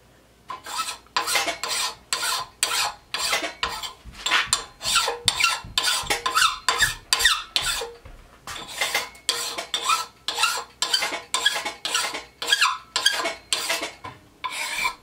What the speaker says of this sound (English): I'll come back on this side and file it some more down here